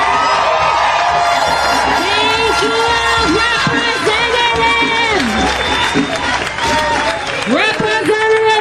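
A dense political rally crowd cheers and applauds loudly and continuously, with whoops and raised voices rising above the roar.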